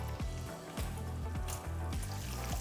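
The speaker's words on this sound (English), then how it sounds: "So once our pancetta is sizzling away, it's all sizzly" Steady crackling sizzle of pancetta frying in a pan, close up, with a few low knocks and scrapes of utensils against the pan.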